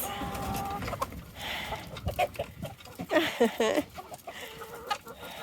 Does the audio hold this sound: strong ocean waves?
no